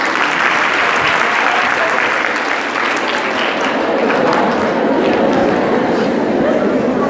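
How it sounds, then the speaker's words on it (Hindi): Applause from a lecture audience, a loud sustained wash of many hands clapping continuously with faint voices mixed underneath. "तालियां होनी चाहिए।"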